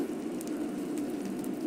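Steady, soft hiss of rain falling in Minecraft, continuous and even throughout with no talk over it.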